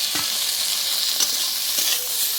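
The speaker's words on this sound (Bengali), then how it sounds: "এবারে আমি আদা জিরা বাটাটা দিয়ে দেবো।" Ginger-cumin paste fries with a loud, bright hiss in a pan of spices for a prawn curry, stirred with a few soft scrapes, close and constant throughout.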